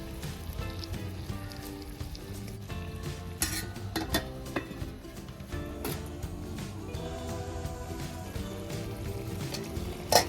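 Prawns simmer and reduce in spiced water in a pan, a soft bubbling sizzle with scattered clinks and scrapes of stirring, fairly quiet and without speech.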